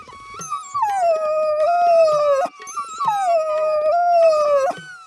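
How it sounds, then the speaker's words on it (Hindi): A dog gives two long, drawn-out whining cries, each sliding downward in pitch, loud and close with a brief gap between them. "कोई कुत्ता पास ही है और वह किसी वजह से पीड़ित है"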